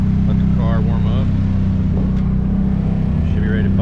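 A drift car idles loudly at a wet drift event, its engine holding a steady low rumble close by throughout, with voices talking faintly over it.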